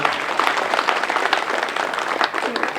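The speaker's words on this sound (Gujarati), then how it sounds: "આપણે બધા એકવાર જોરદાર તાળીઓ સાથે" An audience at a village cooking competition in Chadotar, Banaskantha, breaks into dense, sustained clapping that stays loud and even throughout the short stretch.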